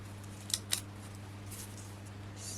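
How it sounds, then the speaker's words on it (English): Two crisp scissor snips close together as excess card is trimmed during a papercraft project, faint and close over a steady low hum. "I'll just snip it off just in case."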